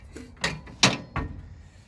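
The steel entry step of a 2017 Airstream Sport 22FB travel trailer is lifted and pulled out, three short metallic clunks and scrapes in quick succession, close by.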